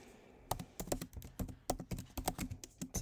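Rapid typing on a computer keyboard while drawing a sustainable home floor plan in SketchUp, a steady run of close, quiet key clicks with no talking.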